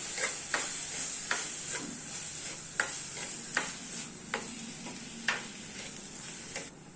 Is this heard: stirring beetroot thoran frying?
yes